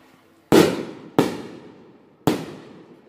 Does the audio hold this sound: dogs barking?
no